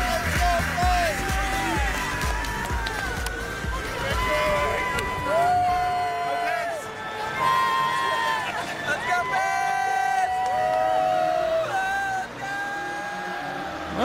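A sellout crowd cheers at a Toronto Maple Leafs versus Pittsburgh Penguins NHL hockey game in the arena, with a broad roar and whoops under an announcer's amplified voice echoing through the building.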